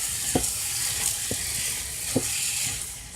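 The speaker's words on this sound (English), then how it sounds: "Let's go ahead and give it a good stir." A pan of rice with sardines and vegetables sizzles steadily while a utensil scrapes and stirs, with a few distinct knocks against the pan spaced through the sizzle.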